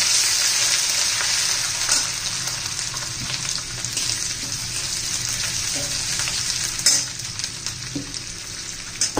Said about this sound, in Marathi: त्यात आलं लसूण पेस्ट घालून घ्या.